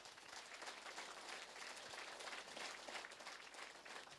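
A large crowd at a meditation gathering applauds, a dense, even wash of clapping that holds steady and sounds somewhat distant.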